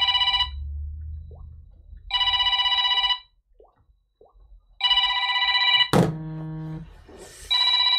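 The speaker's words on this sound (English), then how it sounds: "It's ringing, but there's no button to push." A telephone with no answer button rings in repeated bursts of two, loud and close, with quiet gaps between the rings and a brief clatter near the end, and no one speaking.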